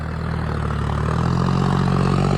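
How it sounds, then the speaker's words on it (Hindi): A John Deere 5050D tractor engine strains while stuck in a farm field with its tyres slipping. It gives a loud, steady, close-up drone that holds without pause. "ये फंस गया ट्रैक्टर।"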